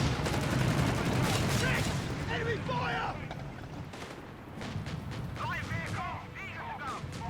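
In the video game Company of Heroes 3, MG-34 machine gun fire crackles in rapid bursts amid dense battlefield explosions and gunfire, while a commentator talks continuously over the action.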